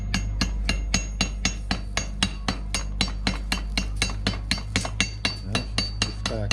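Rapid, regular metallic strikes ring out, a wrench used as a hammer on metal about three times a second while mounting a power steering cylinder, loud and close with no talking.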